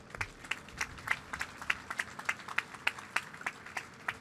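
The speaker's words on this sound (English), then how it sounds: "Please give yourselves a round of applause." Applause from guests at a building topping-off ceremony, heard as sparse, distinct claps in an uneven rhythm, a small scattering of hands rather than a full crowd.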